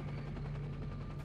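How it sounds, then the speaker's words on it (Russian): A helicopter drones overhead in S.T.A.L.K.E.R.: Shadow of Chernobyl, a steady low rotor hum with a faint chop, continuous and fairly distant. "Вот это вертолет."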